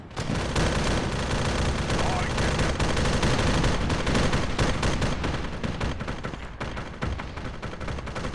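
Dense, continuous Arma 3 gunfire in a Warhammer 40k themed operation, with sustained automatic bursts and overlapping shots loud and close throughout, and voices faintly mixed in beneath the barrage.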